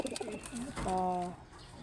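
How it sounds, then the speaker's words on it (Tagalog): A pigeon gives a single drawn-out coo, close and clear, after a few softer throaty murmurs, with no talking. "Yan po, kalapati ko po."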